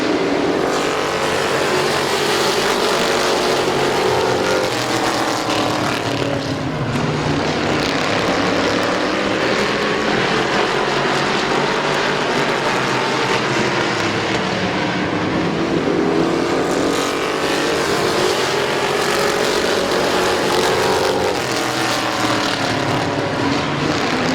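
Race cars roar around the oval at Midvale Speedway, a loud continuous engine drone with rising and falling pitch as the field passes, filling the whole stretch without pause.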